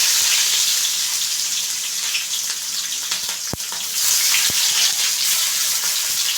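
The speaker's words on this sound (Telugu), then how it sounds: "ఆయిల్ హీట్ అయింది. ఆవాలు వేసుకున్నాం కొన్ని. అలాగే ఎర్రగడ్డ ఒకటి తీసుకుని ఇలా వేసుకొని వేసుకోవాలి చిన్నగా." Chopped onion and mustard seeds fry in hot oil, giving a loud, steady, close sizzle with a couple of sharp pops and a brief burst of stirring in the middle.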